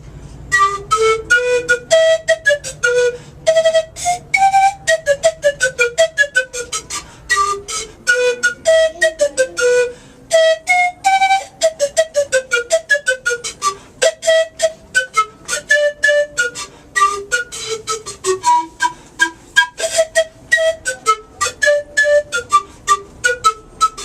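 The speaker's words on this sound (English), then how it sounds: "the next instrument we're going to listen to is the zampoña" Breathy zampoña panpipes from Bolivia play a quick, flowing melody of short, rapidly rising and falling notes, continuous and lively, with no voices.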